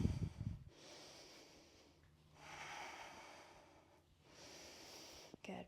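Breath during a yoga session: a sharp nasal snort at the start, then long, airy, hissing breaths rising and falling in slow waves, soft and close, with a brief rustle at the end.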